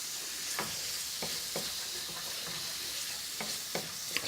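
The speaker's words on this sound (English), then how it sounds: "Just going to stir that well enough for the spices and other ingredients to coat the prawns." Prawns being stirred with spices in a sizzling pan on low heat: a steady soft hiss with several distinct spoon scrapes spaced irregularly, close and moderately quiet, no talking.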